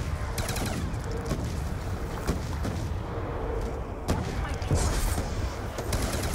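Gunfire in Black Ops 2 Zombies, the Die Rise map, a continuous dense volley of shots with louder bursts near the four- and five-second marks, heard without speech.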